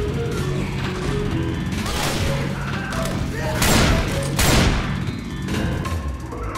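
Repeated shots ring out in Left 4 Dead 2 amid heavy chaotic co-op action, with a couple of louder booming bursts and players talking.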